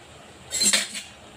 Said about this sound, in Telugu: ఇలా కలుపుకున్నాను మొత్తం